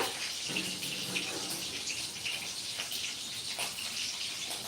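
Water from soaked potatoes pours and splashes steadily into a sink for several seconds, fairly soft and close, with no voices.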